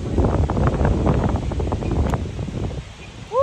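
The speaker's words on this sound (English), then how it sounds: "Woo, y'all, this wind." Strong wind gusts buffet the microphone outdoors in a vegetable garden with carrot crops, a loud continuous rumble and rustle that ends in a sharp gust near the end.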